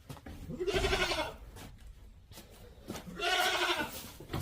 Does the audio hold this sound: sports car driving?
no